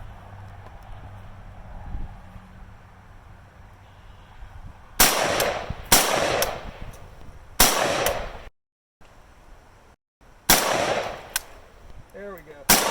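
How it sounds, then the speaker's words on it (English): An East German AK rifle fires into old meat, about five sharp, loud, close shots spaced irregularly, each followed by a brief ringing decay, with quiet handling noise between them. "We're going to shoot it with the East German AK"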